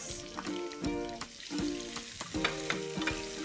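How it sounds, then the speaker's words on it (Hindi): Finely chopped onion fries and is stirred in a pan for a curry, a steady close sizzle broken by repeated scraping stirs and clinks of a spatula against the pan. "इस प्याज को हम अच्छे से लाल कर लेंगे"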